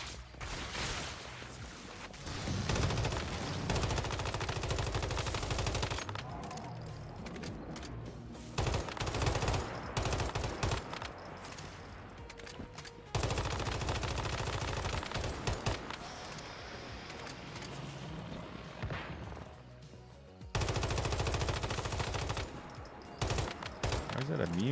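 Gunfire from a weapon in the survival shooter Once Human, loud, bursting volleys that run in long stretches separated by brief pauses, with a voice talking now and then.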